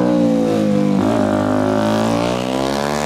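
A strange, fun-to-ride motorcycle on a track, its engine revving loud and close with a steady harmonic roar that dips and swells over three seconds, no voices.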